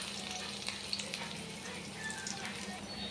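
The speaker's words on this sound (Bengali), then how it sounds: "পেঁয়াজগুলো লাল লাল করে ভাজা হয়ে গেছে" Chopped onions frying in a pan until reddish, ahead of adding chicken for a Bengali chicken curry; a constant, fairly quiet sizzle with faint stirring, no talking.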